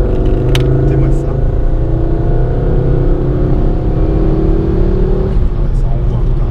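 Ford Focus RS turbo engine pulling hard under acceleration, a loud steady drone with rising harmonic sweeps heard from inside the cabin, easing off near the end.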